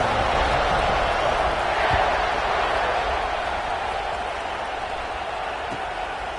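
A large football stadium crowd roars steadily before a kickoff, a dense continuous wall of cheering and noise that holds loud and even throughout.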